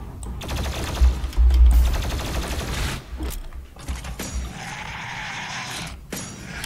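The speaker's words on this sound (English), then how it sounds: "Plasma rifle." A plasma rifle in the game Doom Eternal fires in rapid bursts of crackling, buzzing shots with mechanical whirring, loud and busy, broken by short pauses and mixed with other in-game effects.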